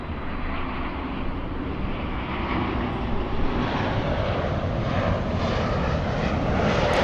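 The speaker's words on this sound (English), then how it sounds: "ein großes Flugzeug" Large airplane passing overhead, a steady broad engine roar that holds loud and even throughout, with no talking.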